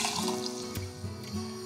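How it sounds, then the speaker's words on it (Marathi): Water poured into a cooking pot of steamed green moong for a simple tempered dish, a short soft gurgling splash close by with no voices. "पाणी घालायचं आवश्यकतेनुसार"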